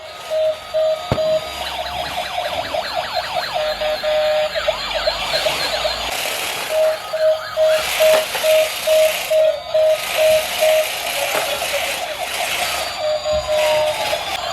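Wailing sirens from toy ambulance and police cars rise and fall continuously, loud and close, with rattling clicks and a steady beeping tone running alongside.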